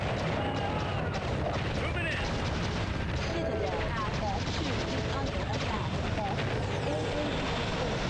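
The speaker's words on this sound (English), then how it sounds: "Let's get some air support and some bombs." Air support in a video game: aircraft roar and bomb blasts mixed with bursts of gunfire, forming a dense, continuous battle din throughout.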